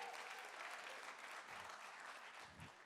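An audience at a startup pitch event applauds in a sustained wash of clapping, steady and full across the room, fading slightly toward the end.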